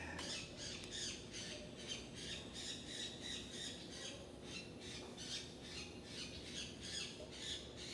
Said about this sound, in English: I don't know if you can hear the birds giving me a little,